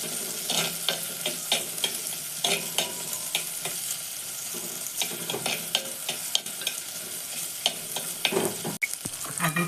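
Onions frying with ginger garlic paste for a cabbage curry, a close continuous sizzle with frequent scraping strokes of a spoon and one sharp knock near the end.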